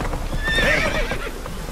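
Roach, a horse in The Witcher 3 game, clip-clops along at a gallop and lets out a clear, loud neigh that rises and falls over the hoofbeats.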